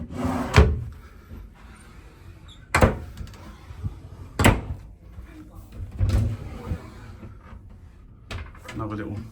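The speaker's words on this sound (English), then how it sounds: "A few drawers, put some stuff in." Drawers in a cruise ship cabin aboard the Marella Explorer slide open and shut several times, each a sharp wooden knock at a steady pace, close by with faint room noise between.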